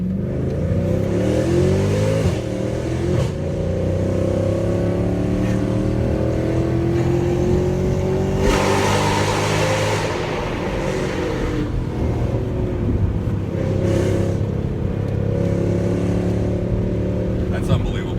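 A Mercedes C63 AMG engine revs hard after a downshift inside a tunnel, loud rising and falling engine tones echoing continuously for the whole stretch, with occasional talk underneath.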